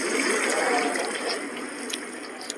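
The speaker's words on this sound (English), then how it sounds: "Glass shatters on the lower levels, allowing water to gush inside." Water gushing and pouring into a skyscraper's lower levels through shattered glass during a typhoon with 200-mile-per-hour winds, a steady broad rushing wash with a few faint splashy accents, heard alone.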